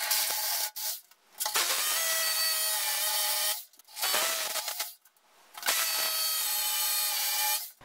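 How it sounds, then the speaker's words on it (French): A power drill bores holes into a wall for plastic anchors to mount a water heater, in three sustained whining bursts separated by short pauses, loud and close with no talking. "on peut attaquer les trous pour installer les chevilles qui permettront de fixer le ballon sur ce mur"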